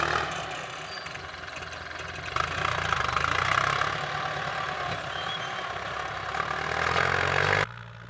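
A Ford 7610 tractor engine runs steadily while working a flat rice paddy, a continuous mid-pitched diesel drone at close range that holds even throughout, then drops away abruptly near the end.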